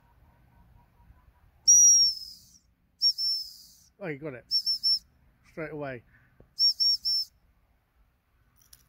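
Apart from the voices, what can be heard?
dog training whistle blows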